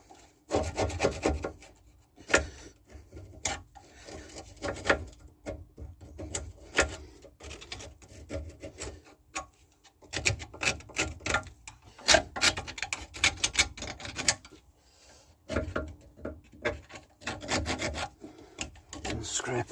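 Loose rust being scraped off the rear brake back plate of a Skoda Fabia, a close, uneven run of gritty rasping strokes with short pauses between bursts.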